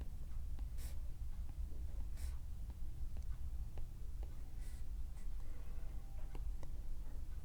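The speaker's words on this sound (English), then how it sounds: "I'm going to go ahead and sketch my line of oscillation." A pencil sketches a line on paper while a cosine function is graphed, faint scratchy strokes over a constant low background hum, with no talk.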